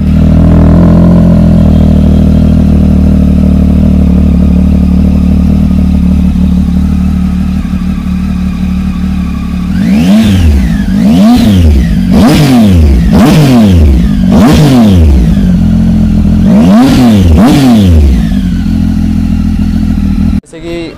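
A Triumph Tiger XRx 800 motorcycle with 26,000 km on it idles steadily, then gets revved in about five sharp throttle blips that rise and fall back to idle, loud and close.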